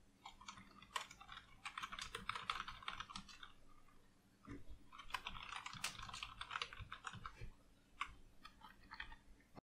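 Someone types code comments on a computer keyboard in rapid bursts of light clicking, close and fairly quiet, with a short pause midway and no talk.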